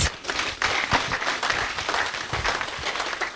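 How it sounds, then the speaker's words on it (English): An audience at a formal courtesy call on the Bank of Ghana governor gives a round of applause, a dense, moderately loud patter of many hands that holds steady throughout. "I may ask you for a resounding round of applause"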